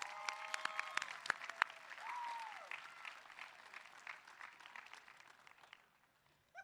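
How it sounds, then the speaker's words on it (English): Sustained audience applause at a high school commencement ceremony, a dense crowd clapping that swells early, then gradually thins and fades out, following a band's performance of Pomp and Circumstance. "let's give a warm round of applause to the Citrus Hill Band"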